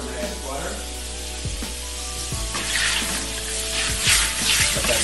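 Butter dropped into a hot pan for scampi-style shrimp with Calabrian chilies, parsley and thyme sizzles and crackles steadily, close and moderately loud, building toward the end, while a person talks over it.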